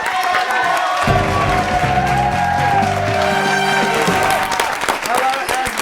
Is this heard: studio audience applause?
yes